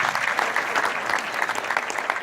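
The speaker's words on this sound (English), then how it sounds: "Would you help me give Principal Jackson the applause and affirmation?" An audience at a Baltimore civic gathering gives sustained applause for a school principal, a dense, even roll of many hands clapping, moderately loud and close.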